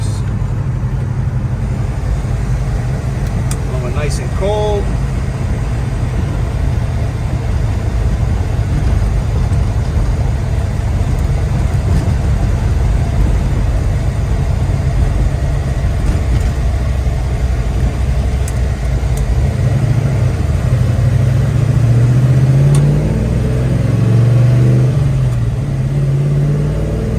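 A 1970 Chevrolet Chevelle SS 454 restomod with a big block Chevy V8 rumbles steadily at close range, its deep idle swelling into a brief rev near the end.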